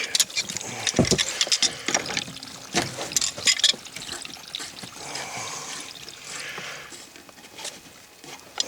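Water drains and trickles out of household plumbing during a bladder tank replacement with the main shut, a steady splashing gurgle broken by a few sharp metallic clanks near the start.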